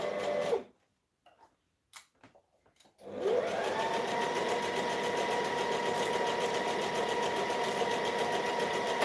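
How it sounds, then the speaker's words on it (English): Sewing machine stitching and back stitching fine fabric, a few short stop-start bursts, then a steady, loud continuous run of stitching. "We're going to stitch, we're going to back stitch."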